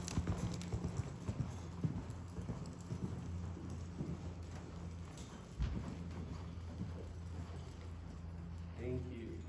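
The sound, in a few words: horse hooves cantering in a riding session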